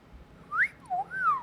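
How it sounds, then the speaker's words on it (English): A person whistles a short, wavering tune of a few sliding notes, close and clear with nothing else around. "You're so bad at whistling."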